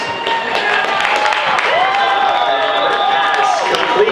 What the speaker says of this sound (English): audience also give them a round of applause